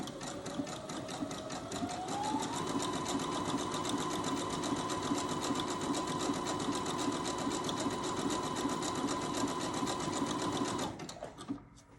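A Janome 500E sewing machine runs a steady zigzag stitch through thick burlap, a continuous close, even mechanical whir that holds for about nine seconds before stopping abruptly.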